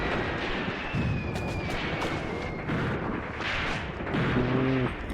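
Gunfire and artillery in the WWII tactics game Graviteam Tactics: Mius Front, dense rattling bursts and booms overlapping continuously under a steady battle din, with a brief low tonal engine-like hum near the end.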